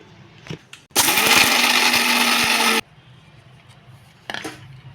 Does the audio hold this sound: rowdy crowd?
no